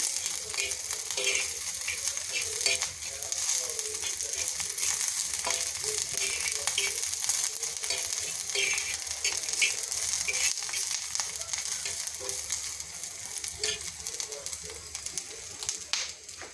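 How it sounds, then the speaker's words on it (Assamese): Dried fish frying in a little mustard oil on a griddle, a close, steady crackling sizzle with dense popping spatters that keep going without a break. "অকণমান মিঠাতেল দি মাছকেইটা এনেকৈ অকণমান মিঠাতেলত ভাজি লম"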